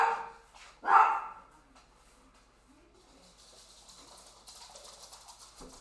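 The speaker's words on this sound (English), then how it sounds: "And now we have dogs barking" A single loud dog bark rings out near the start of a Football Manager 2021 match, then faint distant barking and birdsong over a quiet outdoor background.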